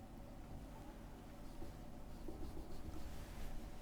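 A pen scratches steadily on paper while working through a statistics maths exercise, a faint, continuous soft rubbing with no talk over it.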